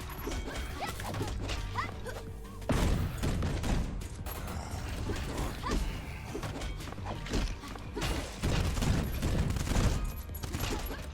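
Turret gunfire in the action roguelite game Cinderia, a dense continuous barrage of rapid shots and impacts layered with other game effects, loud throughout with no clear pauses.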